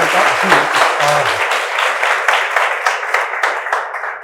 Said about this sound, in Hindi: तालियों के साथ हम स्वागत करना चाहेंगे अरविंद कुमार सिंह